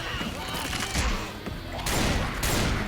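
Gunfire in the zombie shooter Left 4 Dead 2: a dense volley of rapid shots rattles continuously, swelling louder toward the end, with a voice talking underneath.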